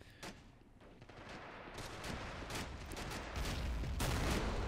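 Distant, continuous battle in Men of War: The Pacific during a USMC assault on Shuri Castle, with rattling machine-gun bursts and booming mortar blasts that grow denser and louder toward the end, no talk.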